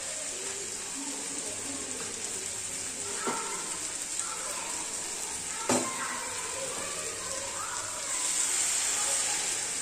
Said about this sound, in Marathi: मी यामध्ये गरम पाणी घालणार आहे आणि गरम पाणीच घालायचं आहे, थंड पाणी घालायचं नाही आहे।